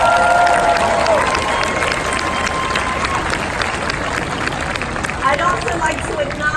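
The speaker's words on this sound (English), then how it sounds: "Let's give them a big round of applause." A crowd applauds and cheers for a ship's crew at a ship naming ceremony, with loud, dense, sustained clapping and a faint voice heard through it near the start.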